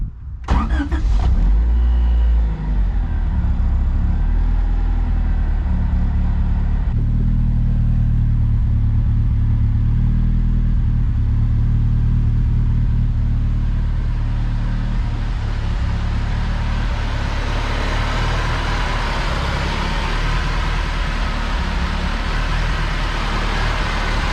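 A turbocharged Honda CRX engine idles loudly and steadily close by, a deep throaty exhaust rumble with a whooshing hiss building toward the end.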